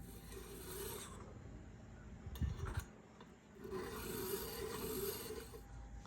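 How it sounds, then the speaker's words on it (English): A metal file rasps across a piston ring end to open the gap, steady close scraping strokes broken by a brief clunk and a pause before filing resumes. "So I got to file this a little bit more."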